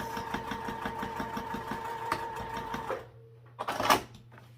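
A sewing machine runs steadily for about three seconds, stitching together layered wallet pieces of exterior fabric, Peltex stabilizer and fleece, then stops and a short clatter follows. No one speaks.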